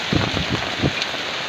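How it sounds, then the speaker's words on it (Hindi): Heavy rain mixed with hail falls outdoors as a dense, continuous hissing patter. A few dull low thumps rise above it, and no voices are heard. "और बारिश तगड़ बहुत तगड़ होत बाटे यार भैया।"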